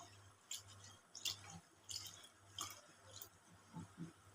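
Sago pearls being rubbed and washed by hand in water, quiet soft wet squishes and drips recurring every half second or so, close and faint.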